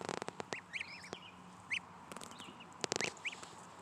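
Young goslings on a homestead farm peep in thin, high chirps, a scatter of short calls coming close and alone among quiet outdoor background.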